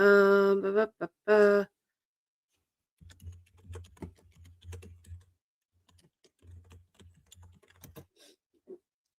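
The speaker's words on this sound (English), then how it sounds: "What you see me typing, just pay attention." Keys clatter on a computer keyboard in short quiet bursts of tapping with pauses between, after a brief loud tonal sound at the start.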